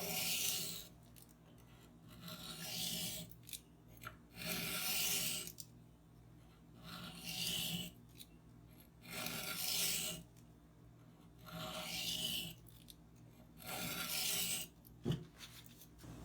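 A knife blade, an Alex Steingraber Shark in CPM-4V steel, is drawn across a sharpening stone in about six slow, rhythmic scraping passes, each a broad raspy stroke separated by short quiet pauses.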